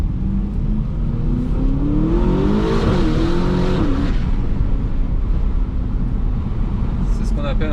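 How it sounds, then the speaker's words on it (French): An Aston Martin DBX 707 SUV's engine roars under full-throttle acceleration in third gear, its pitch climbing steadily, loud and close from inside the vehicle, with road noise throughout. "C'était une accélération en 3e, j'ai mis pied plancher pour voir ce que ça faisait."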